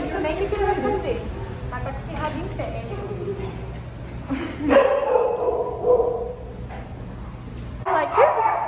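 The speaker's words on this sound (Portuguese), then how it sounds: "Aquela cachorrinha que tá ali, ela é estressadinha, ela tá latindo muito" Dogs bark and yip in short bursts, some nearby and sharp, while a person talks over them.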